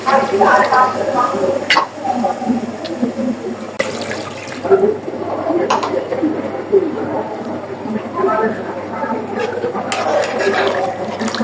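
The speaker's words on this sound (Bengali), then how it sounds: "এখন দিয়ে দিব পানি।" Water is poured into a cooking pot holding a dish with a little tomato sauce, a steady pouring and splashing wash that runs under a voice talking throughout.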